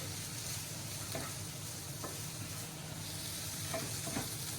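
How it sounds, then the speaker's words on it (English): Zucchini and mushrooms sizzle softly and steadily in a pan, with a few faint clicks of stirring and no voices. "You hear that sizzling? That's the zucchini and the mushrooms sauteing away."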